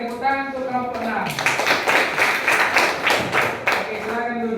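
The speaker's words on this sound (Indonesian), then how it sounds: "tepuk tangan untuk kelompok 6" A university classroom claps for a student group, a burst of mixed hand claps from many people lasting a few seconds, with a voice speaking before and after.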